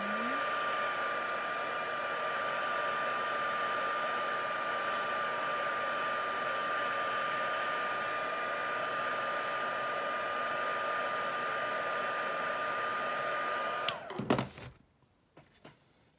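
A hair dryer blows steadily on paint layers in an art journal, a loud continuous whir with a fixed tone that runs for about fourteen seconds, then cuts off abruptly, leaving a few soft knocks.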